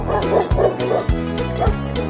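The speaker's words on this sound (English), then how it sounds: "Dog." A dog barks repeatedly in a quick, steady rhythm of short, loud woofs, close and alone with no other sounds around it.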